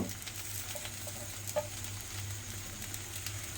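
Soaked flattened rice (chira) going into a pan with fried egg, a soft steady sizzle of frying with a brief stirring clink midway, quiet and close with no talk.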